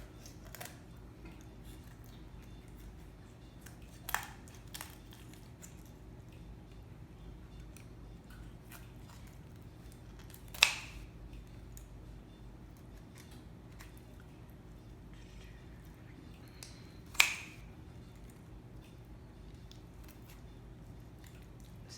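A knife or shears cutting down the other side of a chicken backbone, with a few sharp snips and crunches spaced apart over a quiet background hum, one crack louder than the rest.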